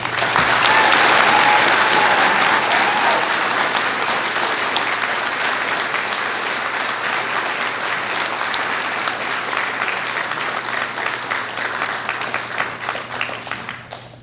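Graduation commencement audience giving sustained applause, a large crowd clapping loudly and continuously for the whole stretch, slowly tapering near the end.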